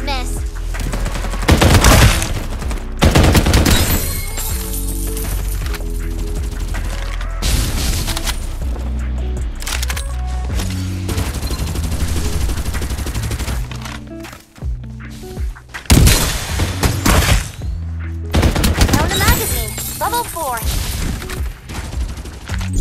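Rapid automatic gunfire and booming shots from the Farlight 84 shooter game, dense bursts rattling in clusters with brief gaps, loud and close, with scattered footsteps.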